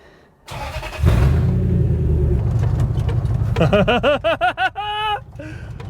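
A customized Toyota Hilux engine turns over and settles into a loud, close rumble, then climbs through several quick revs and pulses before easing back to idle.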